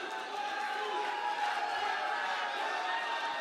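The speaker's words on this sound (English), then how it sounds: "The crowd already starting some chants here, getting alive." A packed arena crowd at a Pakistan vs Iran MMA fight night keeps up a continuous roar and chanting, dense and steady, heard from within the hall.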